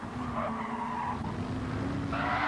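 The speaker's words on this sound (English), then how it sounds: "Fry almost loses it. He almost loses it" Race car in a GT racing video game skidding as it nearly loses control, a rough tire squeal over a steady engine drone, easing off midway and then rising again at the end.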